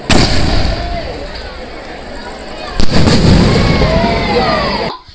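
A double ball firework shell fired from a single tube at a cracker shop, a loud whooshing launch followed by a sharp second boom, both booming and crackling nearby.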